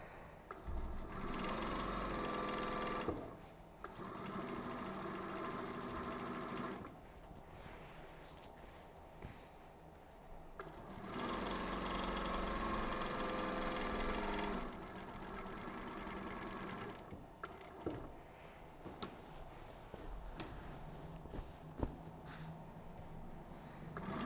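A sewing machine quilting a table runner panel runs in steady whirring bursts of several seconds each, stopping and restarting between passes, close and alone.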